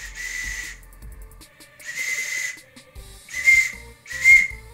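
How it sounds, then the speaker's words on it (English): A high, shrill whistle blown in several short bursts with gaps between, the last two louder and harsher, with faint breathy noise and light handling sounds. "apparently if you blow hard enough, it does whistle"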